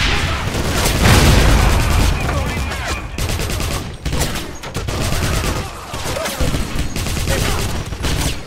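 Enemy gunfire in Wolfenstein (2009), loud sustained volleys of shots and booms crowding the whole stretch, with a voice briefly speaking amid the shooting.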